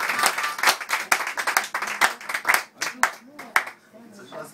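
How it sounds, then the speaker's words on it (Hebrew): Audience clapping along at a live music show, a dense run of sharp claps with a rhythmic feel, fairly near, thinning out toward the end. "אז תמכו לי כפיים"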